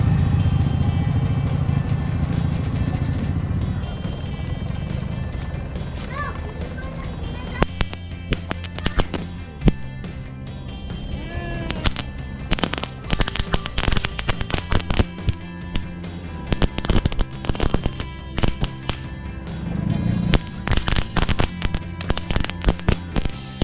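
A Dragon X dino egg firecracker is lit outdoors during a Ramadan evening gathering. After an engine rumble and some talking, it erupts into a long, loud run of rapid crackling bangs that fire in dense, irregular bursts until the end.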